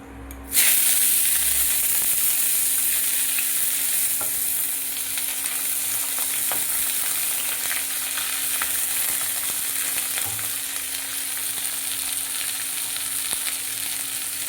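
Onions frying in hot oil in a pan, a steady close sizzle and hiss that runs the whole time with faint stirring scrapes and no voices.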